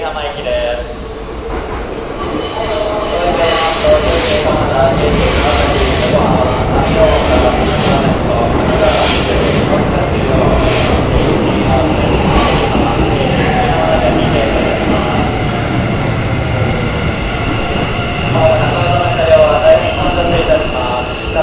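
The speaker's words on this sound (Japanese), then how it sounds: "京急久里浜行き電車が参ります危険ですから黄色い線の内側にお下がりくだ さ い" A Keikyu New 1000 series stainless-steel electric train rolls into Shinagawa Station platform 1 with a steady rumble, squealing wheels and rail clatter, sustained and close throughout.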